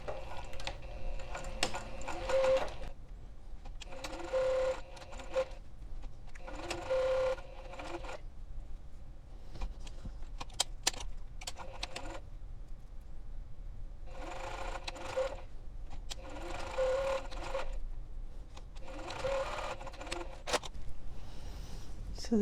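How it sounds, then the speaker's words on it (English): A sewing machine stitches fabric for a portable foldable clothes hanger in steady bursts of a few seconds each, with short pauses between runs, close and fairly quiet. "Now I'm going to stitch the other side."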